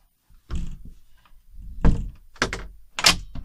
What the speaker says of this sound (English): and you're going to close the door.